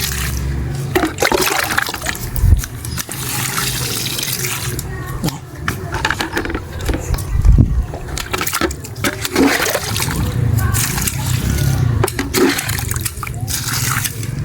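Water splashes and pours over cassava plants in a field during a hot day, irregular close gushes and spatters with thumps, mixed with faint voices in the background.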